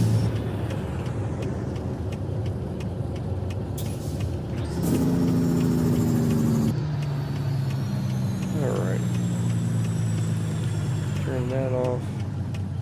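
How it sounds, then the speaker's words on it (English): A truck in American Truck Simulator runs with a steady engine rumble; mid-way a harsher, buzzing engine-brake drone kicks in for a couple of seconds before the engine settles back to a lower hum. "Hit the old Jake brake."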